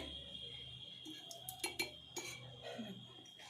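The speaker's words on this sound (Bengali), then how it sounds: "এই জারটার মধ্যে আমি আস্তে আস্তে ঢেলে দেবো অল্প অল্প করে" Homemade Bengali amla pickle spooned a little at a time into a glass jar: light scattered clinks of a spoon against glass and a few soft wet plops, close but quiet, over a steady background hum.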